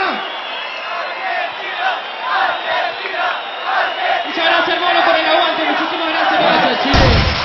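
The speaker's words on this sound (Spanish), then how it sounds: "¡Un fuerte aplauso para Argentina!" A large crowd at a freestyle rap battle event erupts in loud cheering, whoops and shouts for the Argentine team, a continuous dense roar with a brief sharp burst near the end.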